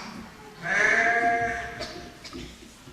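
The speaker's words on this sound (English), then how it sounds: "there is the occasional sad call of sheep as they begin to settle down for the night." A single sheep bleats at night out in the hills, one drawn-out wavering call lasting under a second over a quiet background, followed by faint low rustling.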